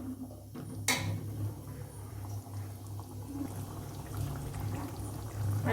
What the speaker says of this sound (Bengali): চিকেন সেদ্ধ করার যে জলটা, সেটা আমি এর মধ্যে দিয়ে দেবো।